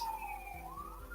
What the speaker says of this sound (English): excuse the siren in the background